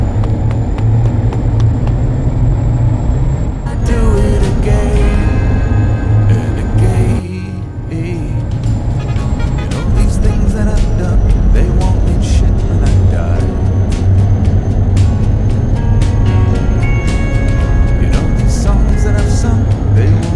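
A Tata truck on the move gives a steady, loud engine rumble and broad road noise that runs almost unbroken, dipping only briefly partway through.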